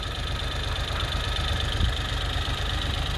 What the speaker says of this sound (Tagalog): yan yung makina natin mga pare ko napakaganda kumandar napakatining ayan so nawala na rin yung cold start natin